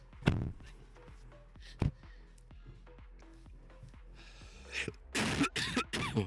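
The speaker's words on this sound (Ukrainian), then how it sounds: "тепер можна прокашлятись" Several throat clearings and short coughs, sharp and close, scattered between quieter pauses, with a burst of heavier rasping near the end.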